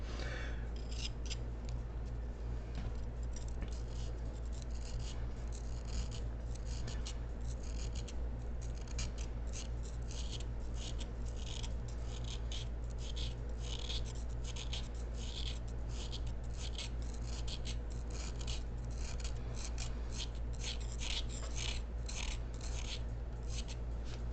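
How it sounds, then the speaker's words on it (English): A nylon brush scrubbing a Camarasaurus fossil bone during fossil preparation: rapid, continuous close-up scratchy bristle strokes in a steady rhythm, with a low hum beneath. "Switch up to my other nylon brush here and just try to move some of that other large dry spot away."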